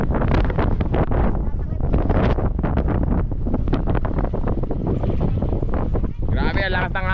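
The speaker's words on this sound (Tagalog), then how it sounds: "Grabe ang lakas ng hangin." Strong wind buffets the microphone with a constant heavy rumble while a person talks over it.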